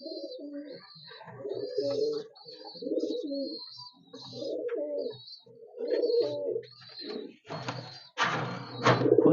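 Pigeons of a fancy tournament flock, including a blue-check bird from the Phulshira line, coo repeatedly in soft, throaty bursts, a steady run of close calls that ends with some rougher handling noise.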